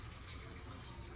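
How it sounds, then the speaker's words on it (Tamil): Water poured steadily from a cup onto rice in a pot while making a home-style chicken biryani. It is a quiet, continuous splashing rush that holds at an even level throughout. "தண்ணி ஊற்றுறோம் அரிசிக்கு ஏற்ற மாதிரி."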